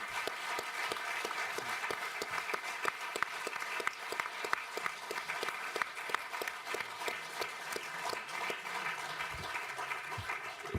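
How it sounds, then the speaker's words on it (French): Conference audience applauding the speakers at a research colloquium, with a sustained wash of clapping, some individual sharp claps standing out, lasting about ten seconds at moderate level. "on peut applaudir l'ensemble des intervenants qui ont tous été de qualité"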